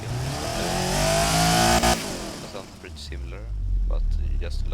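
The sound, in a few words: 257-horsepower van engine revving in the video game Automation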